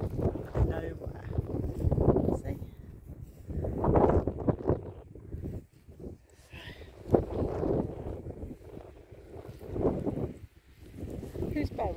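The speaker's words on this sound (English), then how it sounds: "It's quite windy and we're in the middle of nowhere." Wind gusts rumble against the microphone in uneven bursts at a remote grave site while people talk nearby throughout.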